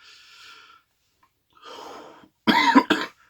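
A person with a bad cough, prone to asthma attacks, lets out a couple of harsh, close coughs in quick succession near the end, after a few soft, raspy breaths.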